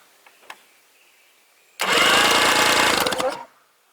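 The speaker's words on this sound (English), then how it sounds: "when I turn the engine over with the spark plugs out, it's going to squirt some of that stuff out" An outboard boat engine with its spark plugs removed cranks over on the starter for about two seconds, a loud, fast, even whirring churn close by, after a few faint clicks and then dropping to quiet.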